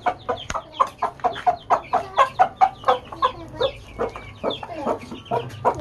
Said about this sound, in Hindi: और ये है हमारी प्यारी सी मुर्गी।